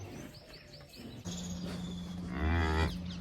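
A Jersey cow and other cattle moo in a dairy shed, with a steady low moo rising loud and close near the end over faint bird calls and background hum.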